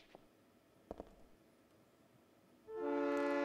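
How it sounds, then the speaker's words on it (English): In the video game Silent Hill 3, a couple of faint clanks in a quiet subway station give way to a sudden loud, sustained tonal roar as a train rushes in and arrives, with no talking. "Got hit by a train."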